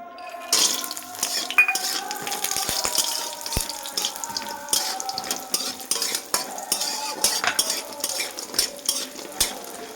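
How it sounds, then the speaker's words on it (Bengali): Lentil dumplings (bori) fry in hot oil in a wok while a utensil stirs them. Frequent metallic clinks and scrapes ring out over a soft, low sizzle, with no talking. "এখন আমি এতে বড়িগুলো ভেজে নেব।"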